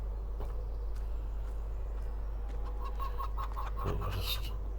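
Chickens cluck intermittently nearby over a constant low hum, with a few short, sharper calls toward the end.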